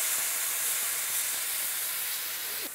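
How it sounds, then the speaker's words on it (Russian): Steady loud sizzling hiss of an oiled, salted steak searing in a hot frying pan, continuous and close, with no voices. "Теперь мы отправляем стейк, который у нас в масле и посоленный,"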